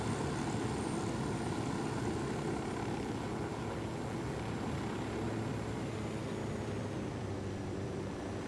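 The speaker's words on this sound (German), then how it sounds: "Die Propeller sind an ihrem Drehen." Helicopter rotors spinning in Ghost Recon Wildlands, a steady, dense droning whir with a low engine hum that holds evenly throughout, fairly loud and with no voices.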